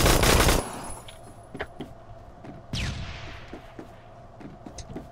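Gunfire in the online shooter game Phantom Forces opens with a loud, rapid automatic burst lasting about half a second. Scattered single shots and a sharper blast with a falling whine follow, fairly close and without talk.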